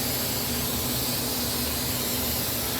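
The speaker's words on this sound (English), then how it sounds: "We want to go ahead and shoot that with some rocker guard." Rocker guard coating sprays steadily from a spray gun onto a repaired, rust-patched car body, a continuous close hiss with no pauses and no talk.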